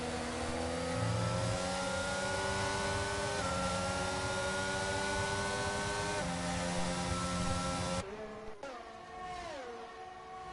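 A racing car in F1 22 at the Saudi Arabia Grand Prix screams under acceleration, its steady high-pitched engine whine stepping through several gear changes before the note drops and fluctuates near the end, loud and close.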